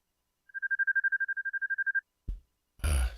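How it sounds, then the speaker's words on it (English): A telephone rings with a rapid, steady pulsing electronic trill for about a second and a half, then short bursts of noise follow. "Somebody's phones are ringing."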